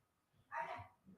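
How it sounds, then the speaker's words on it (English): A neighbor's dog barks once or twice nearby, a short burst standing out against a quiet background. "that's my neighbor's dog barking"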